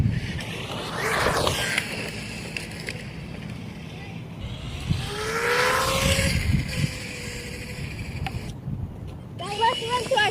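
A Vaterra V100 RC car drives with a whirring motor that rises and falls in repeated revving sweeps, near then passing. Outdoor background noise runs throughout, and a voice speaks briefly at the end.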